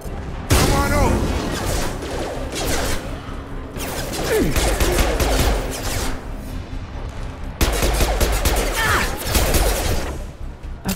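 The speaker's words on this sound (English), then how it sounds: "I really like the shooting here" Gunfire from Mass Effect 2 Legendary Edition: dense, close bursts of weapon fire come in three loud volleys separated by brief pauses, with crackling impacts layered throughout.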